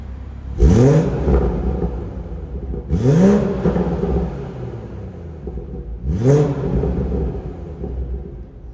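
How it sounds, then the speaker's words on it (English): A BMW B58 engine with a catless downpipe revs three times inside an empty garage, each blip a loud, rising rasp that swells and falls away, separated by a steady idle rumble. "I'm gonna give you some exhaust clips in this empty garage."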